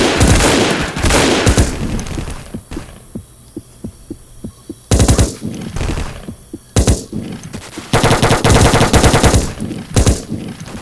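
Machine gun fire in the video game Vietcong: Fist Alpha during a Viet Cong attack, bursts of rapid automatic shots alternating with quieter stretches of single rhythmic thuds over a low hum, loud and close.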